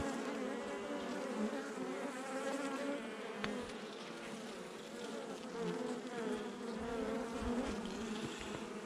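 Buckfast honeybees swarm around an opened hive frame, a dense, continuous buzzing drone with shifting pitches as individual bees pass near, loud and close with no voices.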